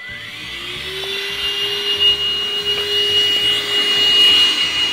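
A Deerma handheld wireless vacuum cleaner runs steadily while cleaning a sofa, its motor giving a continuous high whine with a low hum beneath, fairly loud and close, with slight swells as the nozzle moves.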